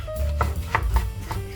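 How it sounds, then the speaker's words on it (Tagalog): Kitchen knife slicing tomato on a board for a coconut chicken recipe: four distinct, close chops spaced evenly over a low background hum. "hiwa lang tayo ng sibuyas, bawang,"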